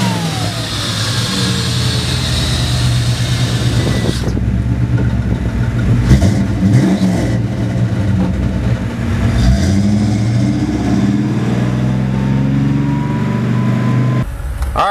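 A 1955 Chevy Bel Air's engine revs and pulls away, loud and close, rising and falling through gear changes as the car drives on, with a steady throaty rumble underneath.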